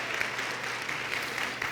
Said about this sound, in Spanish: vamos a darle un aplauso maravilloso a nuestro Papá Dios